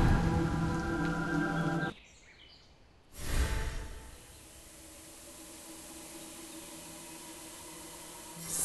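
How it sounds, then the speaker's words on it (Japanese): Rain falls in the video game Onmyoji as a soft, steady hiss of drops. A loud tonal music passage opens the scene, then cuts out, and after a brief swell the quiet rain continues alone. "これは透明で澄み切った雨、"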